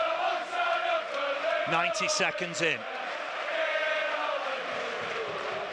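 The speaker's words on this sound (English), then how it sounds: "Plenty of noise from the crowd" Dense, roaring crowd noise fills a football stadium on the final day of the Premier League at Burnley versus Newcastle, with a chanting swell in the middle while a commentator talks over it.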